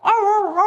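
A single short, loud bark sounds close by. It is likely a human voice imitating a dog rather than a real dog.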